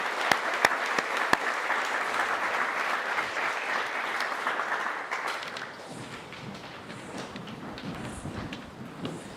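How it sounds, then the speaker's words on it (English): Audience applause at an annual award presentation day, a dense burst of clapping with a few sharp louder claps early on, fading after about five seconds into a lighter scatter of claps and room murmur. "Give them one more round of applause."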